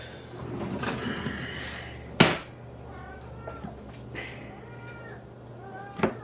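A cat meowing in a home kitchen while tofu is cut into cubes for a vegan green curry, several short meows across the clip mixed with cupboard or drawer thuds and a sharp knock.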